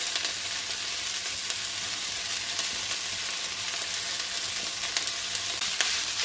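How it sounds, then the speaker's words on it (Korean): Castor bean leaf greens, seasoned and left to marinate, stir-fry in hot oil with a steady broadband sizzle that holds evenly throughout, close and fairly loud, with no voices. "양념이 배게 조금 놔두고 그다음에 기름에 볶겠습니다"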